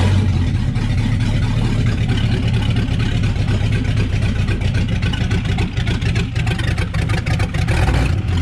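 A 390 FE V8 in a 1966 Ford Galaxie project car runs loud and close, a deep rumbling idle with a choppy, pulsing exhaust beat and a slight rise in revs, with no voices.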